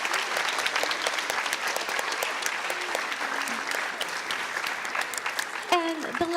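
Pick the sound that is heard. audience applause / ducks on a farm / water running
audience applause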